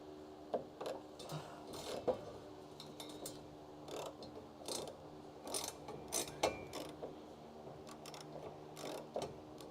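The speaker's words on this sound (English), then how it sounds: "Let me just tighten this thing back up so I don't lose the nut." Tightening a nut on a crew-cab Charger project car gives irregular metallic clicks and ratcheting bursts, close but fairly quiet, scattered in uneven clusters.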